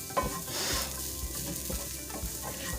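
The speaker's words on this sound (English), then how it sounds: "So I just want to keep stirring it" Garlic and onions sizzling and frying in a pan for vegan potato croquettes, a steady close hiss with soft scraping and clinks as a utensil keeps stirring the mix, no voices.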